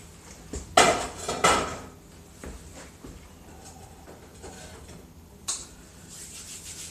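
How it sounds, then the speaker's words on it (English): Metal clatter of a windscreen pot holder and a pan set onto a small alcohol camping stove: two loud clanks close together, lighter taps, then a single sharp clink, near and with no talk. "Put the windscreen pot holder on the little stove here."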